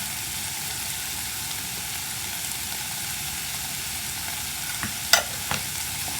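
Broccoli sautéing in a pot with a little salt, the start of a broccoli soup, makes a steady low hiss throughout, with a few brief scrapes from stirring near the end.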